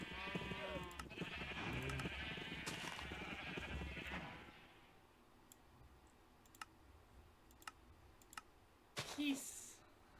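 Minecraft sheep bleat on a survival server animal farm, several short bleats stacked over the opening seconds, followed by sparse clicks and a brief sharp sound near the end.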